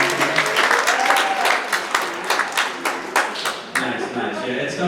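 Parents in a theatre audience clap at a comedy show, a dense, lively round of applause filling the room throughout with scattered taps and a bit of crowd noise.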